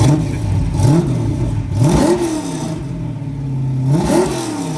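A drag car engine revs repeatedly, pitch climbing and falling in several rising sweeps over a steady idle rumble, loud and close.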